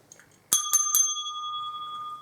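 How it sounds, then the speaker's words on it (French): A small hand bell rung three times in quick succession, bright and close, its clear tone ringing on and slowly fading afterward. "la petite cloche pour vous dire"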